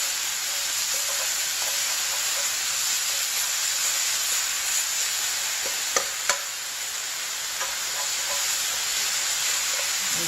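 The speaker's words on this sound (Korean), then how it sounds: "이 젓가락 두세 개로 이렇게 흩으면서 볶아주시면 됩니다" Julienned vegetables stir-fried with two or three chopsticks over high heat for bibimbap in a hotel culinary class kitchen: a steady, loud broadband sizzle and hiss, with a few faint clicks of chopsticks near the middle, and no talking.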